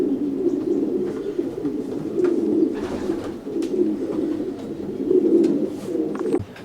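Many racing pigeons cooing together in a loft, a continuous low murmuring chorus with soft rising and falling throbs, no talking.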